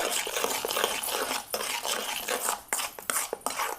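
A metal spoon stirs a homemade cleaning liquid for brass utensils in a vessel, giving a steady run of scraping and light clinking strokes with brief pauses between them, close and fairly loud.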